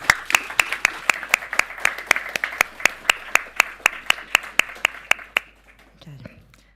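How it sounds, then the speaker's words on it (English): Conference audience giving panelists a round of applause, heard as sharp, fairly sparse claps at a steady pace for about five seconds before they die away into room quiet. "please join me in this round of applause for our panelists"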